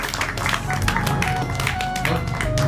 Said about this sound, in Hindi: इनके लिए भी जोरदार तालियों से उनका स्वागत है